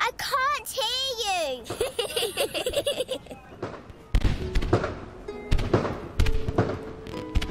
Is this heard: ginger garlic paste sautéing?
no